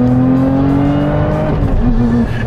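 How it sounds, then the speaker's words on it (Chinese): A Lotus Emira's supercharged V6 revs hard above 4000 rpm, a loud, close, steady engine drone with rising harmonics that holds strong before easing slightly at the end. "再加上身后 V6 发动机和机械增压的合唱"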